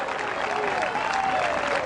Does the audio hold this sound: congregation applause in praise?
yes